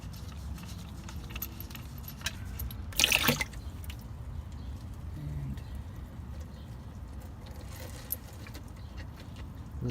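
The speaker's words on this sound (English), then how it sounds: "Let that oil drain." Engine oil drains from the oil pan of a 2006–2010 Passat 2.0T into a lined catch basin. A steady low trickle and patter run throughout, with a brief sharp metallic clatter near the start, and there is no talking.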